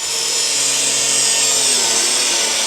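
A power tool fitted with a grinding blade cuts loudly and continuously in a garage during a V8 swap on an A-body Nova, a bright, harsh whine that holds steady without pause.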